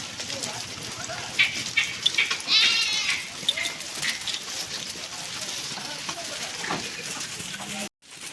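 Village goats bleat repeatedly in an open farm setting, several calls overlapping at moderate distance, with a person speaking intermittently and a brief cut near the end.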